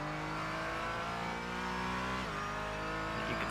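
Steady, continuous race car engine drone in the iRacing video game at Bathurst, with a brief shift in pitch midway, loud and sustained without any talk.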